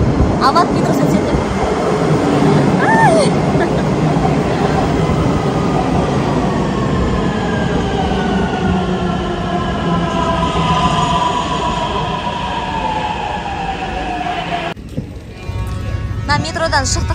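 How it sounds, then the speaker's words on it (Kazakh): An Istanbul metro train running underground, with a loud, continuous rumble and rattle of wheels on rails and long, sliding squeals as it moves, then a brief dip in the noise near the end. "Стамбулдың метросы."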